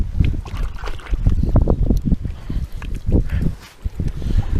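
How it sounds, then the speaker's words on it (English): Wind gusting at a reservoir, a loud low rumbling buffet against the microphone with water lapping underneath, continuous and fluctuating throughout. "the wind is picking up"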